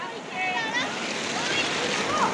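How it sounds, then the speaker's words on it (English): Water pouring at a waterfall in Giridih, a broad steady rushing hiss filling the scene, loud and continuous with no clear breaks. "Now we are in the falls. The water is falling from there."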